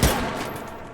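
A single loud gunshot in the VR shooting game H3VR, a sharp close blast at the start followed by a long fading echo.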